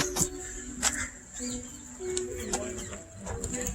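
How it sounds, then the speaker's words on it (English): Pigeons beside a lake coo and flutter close by, with a few sharp wingbeat-like bursts among low cooing tones, while people talk quietly nearby. "you want to step on a bird?"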